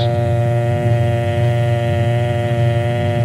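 1936 telephone dial tone from a newsreel, a steady, unbroken buzzing hum held at even loudness throughout, with no voices.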